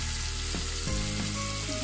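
Chili powder and spices fry in a pan for a chewa fish recipe, producing a dense, continuous sizzle close up with no talking.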